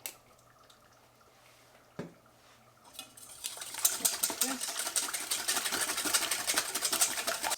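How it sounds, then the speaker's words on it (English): Eggs being whisked in a bowl for banana bread, starting with a few faint taps and clinks before a fast, rhythmic rattling whisk rises and continues steadily to the end. "So I'm going to whisk this and put it aside."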